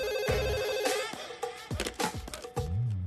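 Telephone ringing in a comedy film scene, a loud trilling bell tone repeating up close, mixed with other busy scene sounds.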